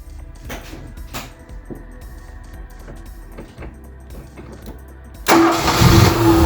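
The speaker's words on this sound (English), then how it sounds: "so we'll start it up, let it run for a minute, see what it sounds like" Ford Capri's engine cranks and catches after ten months off the road, then runs loud and steady close by, following a few seconds of quieter workshop knocks and shuffling.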